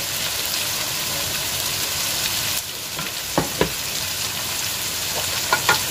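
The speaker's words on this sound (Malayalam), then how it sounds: "നമുക്കിപ്പം ചതച്ച ഇഞ്ചിയും വെള്ളുള്ളിയും ഇട്ട് കൊടുക്കാം." Crushed ginger and garlic sizzle in oil with chopped onion for a spicy chicken roast, giving a loud, steady frying hiss that eases partway through and is then punctuated by sharp spoon clinks against the pan.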